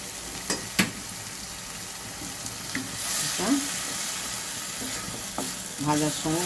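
Oal kochu (elephant foot yam) frying in a pan for a traditional Bengali kalia, with a steady sizzle and scattered stirring scrapes and clinks, close and moderately loud throughout.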